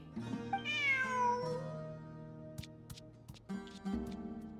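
In the video game Genshin Impact, a cat gives a rising, drawn-out meow, followed by soft ticking and chiming game sounds with a faint tonal background.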